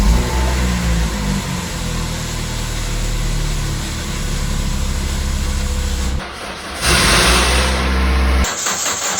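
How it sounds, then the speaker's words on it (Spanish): Abandoned-then-rescued Toyota Celica cranking, its starter motor grinding with a harsh, noisy whir over a low engine rumble, loud and close, with a brief break and a shift in tone near the end. "Y por último, ese maldito ruido al arrancar."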